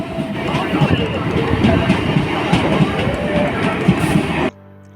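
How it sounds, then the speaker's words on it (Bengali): A train arriving at Aranghata station rumbles and clatters steadily nearby, with rhythmic wheel noise and a faint screech, then cuts off abruptly near the end. "দেখো ট্রেনে চলে এসছে"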